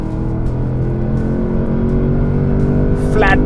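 A 2024 Porsche Panamera, a 2.3-ton four-seat sport limousine, is held flat through a right-hand corner with a steady, loud engine drone. A voice talks over it, and a brief tonal squeal rises near the end.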